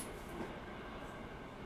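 An Osaka Metro 66 series train with Mitsubishi IGBT drive runs along the track, a faint, steady rail rumble with light wheel noise and a soft brief whine, heard from inside the car.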